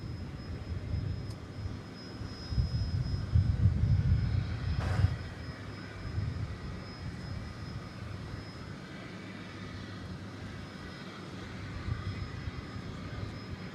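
A Condor airliner lands or takes off on a runway at DFW Airport in Texas, a low, broad jet roar swelling at a distance and then fading into a steady faint rumble.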